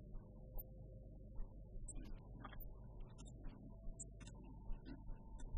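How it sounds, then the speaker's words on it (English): A muffled, hollow-sounding music mix with the mid channel fully low-passed and the sides kept, leaving thin side elements, faint hum and scattered high ticks playing alone. "completely low passing the mids and keeping the sides active"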